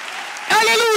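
A church congregation bursts into applause and cheering partway through, loud and sustained, with voices rising over the clapping after a quieter opening stretch.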